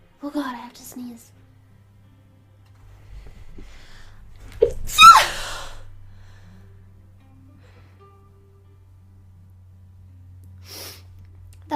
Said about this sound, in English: Oh god, I have to sneeze.